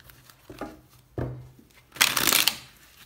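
Tarot cards being shuffled by hand: a few soft, brief rustles, then a louder, close riffle of about half a second. No talking.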